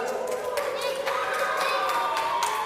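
Children cheer and clap together at a Vacation Bible School night, a busy wash of young voices with scattered hand claps throughout, fairly close and steady, with speech mixed into the crowd noise.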